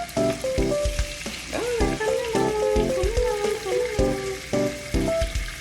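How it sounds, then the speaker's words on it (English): Lamb T-bone chops sear in a hot skillet, sizzling and crackling steadily, with a sustained musical tone and intermittent thumps or clicks over the frying. "let's let them pan sear, you guys"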